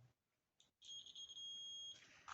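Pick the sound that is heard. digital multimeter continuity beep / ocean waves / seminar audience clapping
digital multimeter continuity beep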